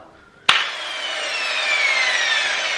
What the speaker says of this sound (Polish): Szlifierki kątowej z taką tarczą ze stalowych włosów